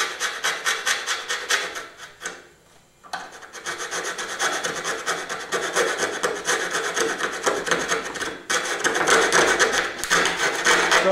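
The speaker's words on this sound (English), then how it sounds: "I'm using a piece of sandpaper to clean up the lines, make sure they're nice and neat" Sandpaper rubbed by hand along the coped end of a wooden chair rail, a steady dry rasping scrape repeated in quick strokes, close and fairly loud, with a brief pause near the start and no talking.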